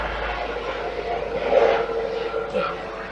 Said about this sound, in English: or this is a plane.